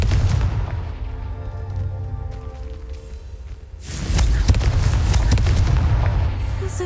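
A fiery Confringo spell in Hogwarts Legacy bursts with a loud booming blast partway through, rumbling explosions before and after it with no talking.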